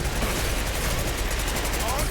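Rapid pistol gunfire crackles in Mass Effect 2 combat, a loud, dense run of shots layered with game effects and background noise, with voices mixed in.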